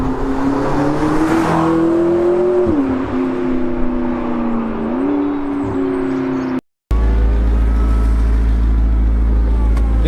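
McLaren 650S Spider convertible engine pulling away, a loud steady drone with pitch rising and dipping through gear changes, then a short cut and a deep rumbling idle close by.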